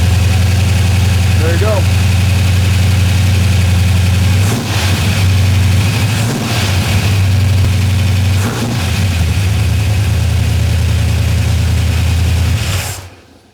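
A cold 1965 Chevelle V8 idles steadily during break-in with a loud, constant low rumble and a few brief revs, then cuts off at the end; someone speaks briefly over it.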